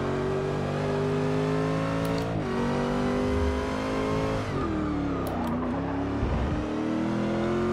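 Racing car in Forza Motorsport 6, a new Ford GT on track above 200 km/h, engine revving hard and climbing in pitch through several gear shifts, loud and continuous with no talk.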